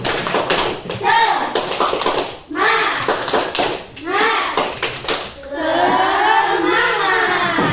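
Classroom children chanting the 'tepuk semangat' clapping cheer together, rhythmic bursts of hand claps interleaved with shouted group chanting, ending on a longer cheer.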